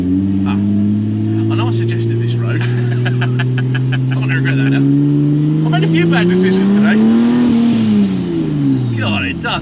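Ford F100 pickup with a twin-turbo Nissan 370Z engine swap, driving on a road with a steady droning exhaust that rises in pitch as it accelerates, while people talk over it inside the cab.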